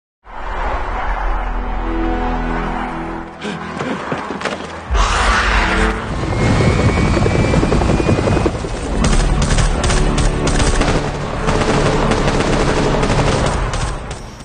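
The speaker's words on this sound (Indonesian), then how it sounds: "muncullah sebuah helikopter yang menyelamatkan mereka berdua dan menembaki zombie-zombie tersebut" A helicopter drones loudly while it fires bursts of rapid gunfire at zombies in a film, dense and continuous with a brief lull partway through.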